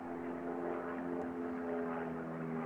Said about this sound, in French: il est là le nouveau bonheur de Dorine Bourneton dans les loopings et les acrobaties